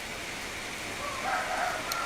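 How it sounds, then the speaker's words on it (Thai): Heavy rain pours down steadily, a dense, even hiss that holds at a moderate level throughout with no voices over it. "นี่ฝนก็ตกแรงอยู่เหมือนกันนะ"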